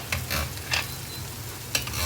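Chilli powder and vegetables sauté in a pan for a Tamil lunch curry, giving soft, intermittent sizzling with a few brief scraping bursts from stirring over a low background hum.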